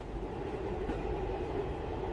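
A metro train runs steadily in an animated scene, giving a continuous low rumble and rolling hum with no distinct clacks, even in level and fairly quiet throughout.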